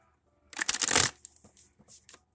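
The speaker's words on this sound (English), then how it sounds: "I thought today I would go ahead and just shuffle on camera." Tarot cards shuffled by hand in a quick, dense riffle, then a few scattered soft card flicks and taps trailing off, close and fairly quiet.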